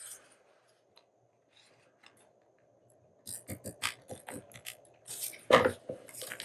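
Scissors snip paper for a letter O tag: a quiet start, then a close run of short, crisp cuts and paper rustles with a louder snip near the end.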